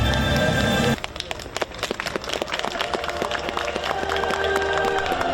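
An audience at a charity campaign launch ceremony breaks into applause, a full crowd of clapping that follows a loud amplified sound and swells steadily, with a few cheers mixed in.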